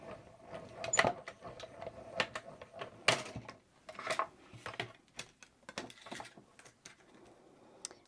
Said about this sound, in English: put that plate on and crank it through